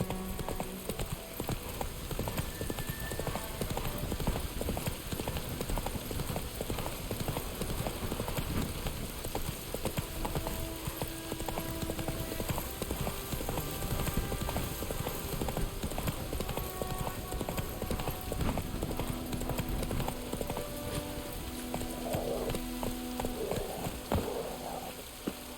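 The horse Roach gallops in The Witcher 3 video game, dense rapid hoofbeats pounding continuously for the whole stretch over a steady background hiss, loud and close.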